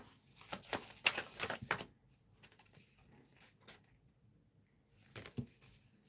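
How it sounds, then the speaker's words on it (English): Quick bursts of papery riffling as cards are shuffled, a couple of flurries close by, then a pause and another brief shuffle near the end. "as I was shuffling the cards"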